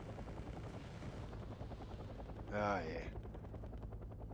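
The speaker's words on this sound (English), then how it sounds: "And I'd like to see a helicopter go down." A helicopter in a military video game throbs with rapid rotor chopping, joined by a short burst of gunfire and a rising whine as it goes down, with a brief spoken exclamation over the din.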